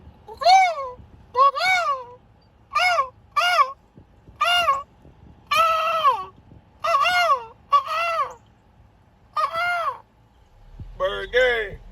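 A flock of large birds gives loud, repeated honking and squawking calls in irregular bursts, fairly close, with no talk over them.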